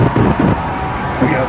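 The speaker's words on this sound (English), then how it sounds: "We have liftoff." SpaceX Starship rocket lifting off during Integrated Flight Test 2, a broad, steady low engine roar with rumbling bursts, heard under a commentator's voice.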